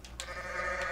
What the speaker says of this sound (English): Stella, is that you, goat screaming?